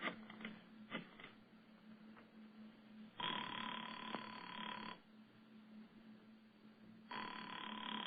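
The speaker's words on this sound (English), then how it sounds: "went to the phone and dialed" A telephone line rings after dialing, with a couple of short dial clicks, then long buzzing ring tones in two clear bursts separated by quiet line hiss.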